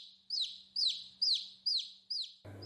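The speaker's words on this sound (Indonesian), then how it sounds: "suara ayam saling bersautan di sekeliling rumah Yoga" A bird gives five evenly spaced, loud, clear descending chirps around a house, each sharp and close, before a short burst of low noise cuts in at the end.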